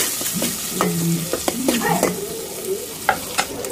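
Onion frying in ghee in a pan, with steady sizzling and crackling close up and occasional scraping and clinking as it is stirred.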